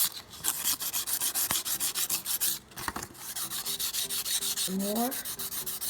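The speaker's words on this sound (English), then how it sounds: "now we're going to use this provided sanding paper" Sandpaper rubs over the chipped edge of a bar counter in quick, rhythmic back-and-forth strokes, close and steady. A voice briefly speaks near the end.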